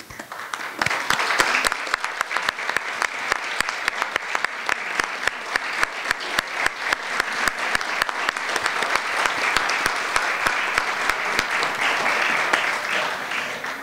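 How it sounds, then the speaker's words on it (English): Steady applause from an audience in a room for standing volunteers at a League of Women Voters event on immigration policies, dense clapping sustained throughout with sharp individual claps near and clear. "please standing so we can give you a round of applause"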